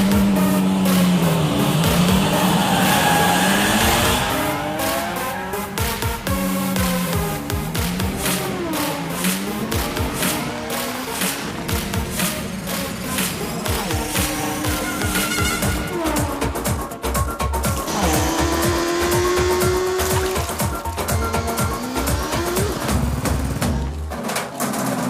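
Several cars race, their engines revving and roaring loudly with rising and falling pitch and occasional tyre squeal, constant and close with faint crowd noise in the background.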